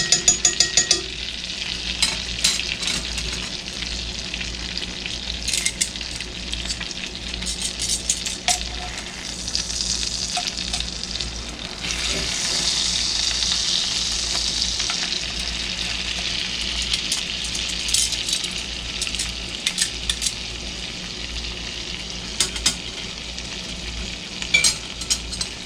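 A Family Dollar New York strip steak sizzles steadily in a hot pan, a loud continuous frying hiss with occasional crackles and pops, no one speaking.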